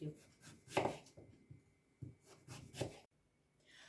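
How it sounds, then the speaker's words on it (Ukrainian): A knife cuts pumpkin into thick pieces on a board, giving a few close, dull chops in an uneven rhythm with short pauses between them. "тепер будемо нарізати е, такими шматочками товщиною 5-7 мм"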